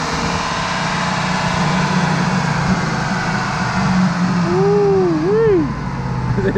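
A GMC Sierra pickup truck's engine roars loudly and steadily as it accelerates through the gears up to third, holding a constant mechanical drone with rising and falling pitch sweeps near the end.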